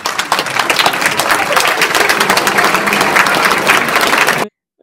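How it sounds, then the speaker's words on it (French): Loud, dense applause from a crowd at a school diploma ceremony for lower-secondary graduates, many hands clapping in a sustained even wash that cuts off abruptly at the end. "Félicitations, je crois que vous pouvez vous applaudir."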